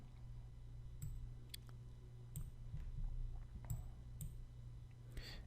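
A computer mouse clicks at irregular intervals while adding items in a website builder: sharp, faint, scattered clicks over a low steady hum.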